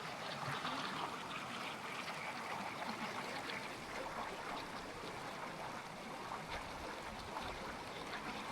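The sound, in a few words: Pipestone Creek flowing water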